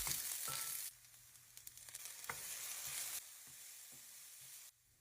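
Onion and garlic sautéed in a cleaned pan, a fairly faint hissing sizzle that drops and returns in stages with scattered small spatula clicks, no voices.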